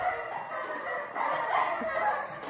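Chickens brought in by a group of children, clucking and crowing in a noisy, crowded indoor setting, a continuous dense chatter of fowl calls throughout with no clear talk.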